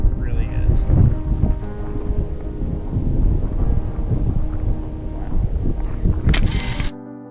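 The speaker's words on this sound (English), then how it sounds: "It's so windy up here." Strong gusting wind buffets the microphone high in the Dolly Sods Wilderness, a loud rumbling roar that surges and eases over several seconds before cutting off abruptly near the end.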